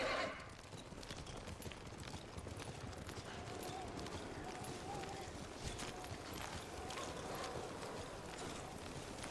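Horse hooves gallop in a steady, dense rhythm through snowy weather in Ghost of Tsushima, a continuous busy bed of sound with wind and background game ambience throughout.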